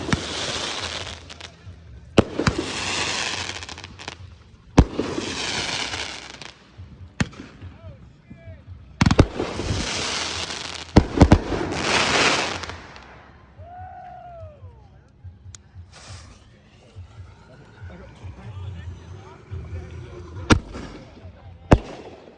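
Firework shells burst in a series of loud, sharp bangs with crackling tails at a 4th of July backyard display, some blasts close and heavy, with people talking and calling out between explosions.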